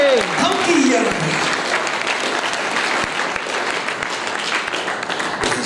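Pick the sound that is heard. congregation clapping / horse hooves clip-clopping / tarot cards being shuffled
congregation clapping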